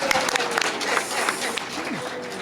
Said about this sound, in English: So give the SWAPO Youth League, including this ones, a round of applause.